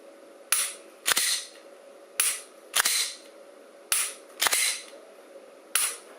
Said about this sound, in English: I'm pulling the trigger a lot of times here, and certainly don't have to rack the slide in between each time.